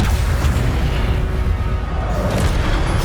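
Incendio fire spell cast in the Hogwarts Legacy video game: a loud, continuous rumbling whoosh of flame with a deep booming body that holds steady for several seconds.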